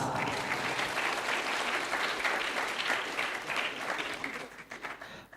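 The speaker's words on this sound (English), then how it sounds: "give a whole round of applause" An audience at an international seminar breaks into sustained applause, dense continuous clapping that holds steady and then thins out toward the end, with no talking over it.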